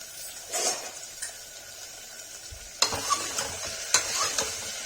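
Potato curry with salt being stirred in a pan on the stove, a soft sizzle running throughout with a few sharp scrapes and spoon clinks against the pan, close and fairly quiet.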